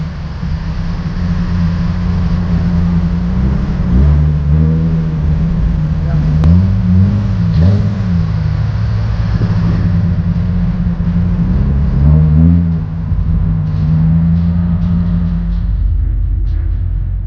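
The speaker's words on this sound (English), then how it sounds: "Here we have what appears to be a Mark IV Ford Zephyr, but just listen to the engine note" Modified Mark IV Ford Zephyr idling and blipping at a classic car show, a deep, steady low rumble with a few rises in revs, close by, with talk over it.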